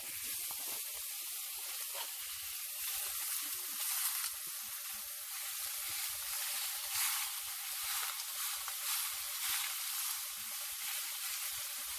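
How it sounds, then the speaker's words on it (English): Ground beef cooks in a pan for empanada filling, making a faint, even, steady hissing sizzle that continues throughout without a break. "I'm going to take this ground beef, open it up, and I'm going to put it inside my pan"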